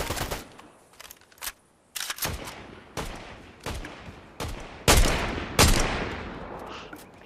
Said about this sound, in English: He's shooting me now.